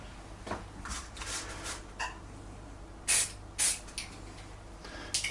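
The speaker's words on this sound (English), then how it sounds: "I'm going to put some mesh over the grips and just spray a pattern" Short hissing bursts of spray paint puff out one after another in an irregular rhythm through mesh onto an airsoft rifle's grips, close by, over a steady low background hum.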